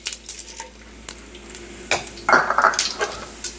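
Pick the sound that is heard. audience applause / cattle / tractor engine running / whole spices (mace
whole spices (mace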